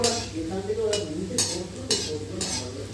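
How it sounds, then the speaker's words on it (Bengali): Gulab jamun dough balls frying in oil while being turned, a bubbling sizzle near at hand, punctuated by four spaced scraping strokes of a spoon in the pan, a faint low hum beneath. "একটু বেশ কিছুক্ষণ ধরে ভেজে দেবো"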